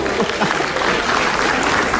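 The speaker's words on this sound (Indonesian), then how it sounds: "Tepuk tangan bukan angkat tangan." Studio audience applause at an Indonesian comedy talk show, a dense steady wash of clapping filling the whole stretch at an even level, with faint voices mixed in underneath.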